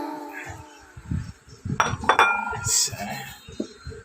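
Sharp clinks and clatters of plates and dishes being handled, several knocks close by with a bright ringing tap near the end.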